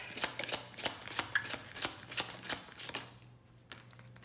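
Tarot cards being shuffled and drawn by hand, a rapid run of crisp flicking riffles close by that slows and fades into quieter handling near the end, with no voices.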